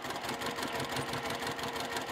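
A sewing machine with confetti thread runs a continuous seam across a star quilt block, producing a steady, dense mechanical whir with no pauses and no voices.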